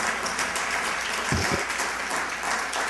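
Audience applause at a black alumni gala keynote, a steady wash of clapping throughout, moderately loud and filling the room.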